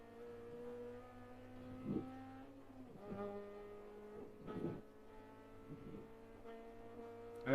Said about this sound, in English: I think I'm getting fuel cut.